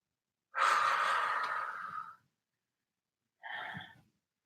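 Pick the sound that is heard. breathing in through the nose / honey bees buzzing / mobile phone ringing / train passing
breathing in through the nose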